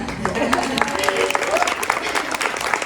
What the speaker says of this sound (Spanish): les voy a pedir que la recibas con un fuerte aplauso